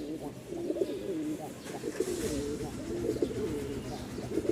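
Running pigeons cooing at a seller's loft in Mirpur, repeated soft rolling coos in a steady rhythm, close and moderately loud, with someone talking faintly behind them.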